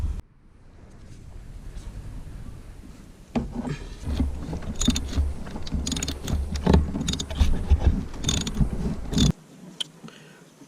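A breaker bar with a 27mm socket cracks loose the oil filter housing on a Citroen C1 1.4 HDi, producing close metallic ratcheting and clicking bursts that start after a few seconds of quiet and stop abruptly near the end.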